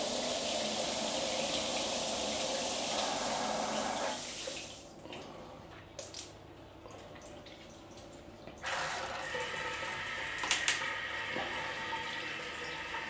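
Water from a hotel rainfall shower head in Bangkok pours steadily, then eases into lighter splashing and dripping, with a few louder spatters near the end; no one speaks.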